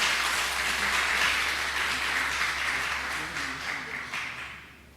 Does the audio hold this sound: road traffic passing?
no